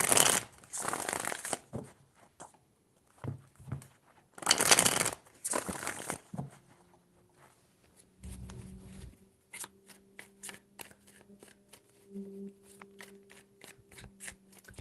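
Tarot cards being shuffled by hand, with two strong riffling bursts near the start, then softer scattered taps and clicks of the deck as it is handled.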